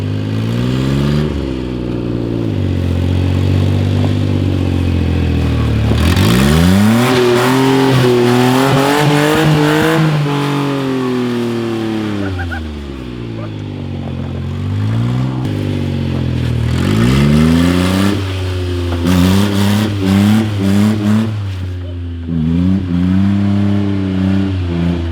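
A Kei truck drives through snow, its small engine revving up hard through several gears with rising whines, brief drops at each shift and a steady drone between pulls, loud and close.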